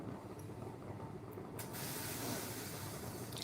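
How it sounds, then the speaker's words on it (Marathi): Steam rises from a pot of masale bhaat rice cooking on the stove, a soft steady hiss that grows fuller and louder partway through, with no voices. "आता जी वाफ येते ना त्या वाफेवरती आपण भात शिजवत आहोत"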